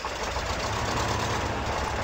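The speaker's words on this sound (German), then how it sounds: "Ach, man hat zuerst den Motor starten." A heavy truck engine in the off-road driving game Spintires runs with a loud, steady, rumbling drone and a knocking idle throughout.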